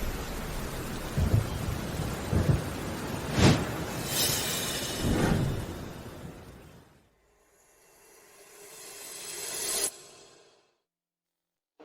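Heavy rain pours steadily, swelling in intensity with rumbling thunder bursts, then drops to a quieter wash before fading out.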